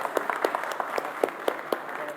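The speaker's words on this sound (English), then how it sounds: "Let's have a big round of applause for Moto" An audience at a Moto Z phone launch event applauds, with individual claps close and fairly loud in a steady rhythm over a brief stretch.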